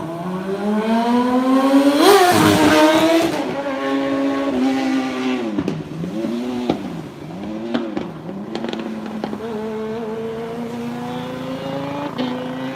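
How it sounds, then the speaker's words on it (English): A loud Kawasaki motorbike on a street in Pattaya, Thailand, revs hard and roars past close by, its engine pitch climbing and dipping through several throttle bursts before settling into a steadier drone as it moves on. "that, ladies and gentlemen, was a Look At Me motorbike."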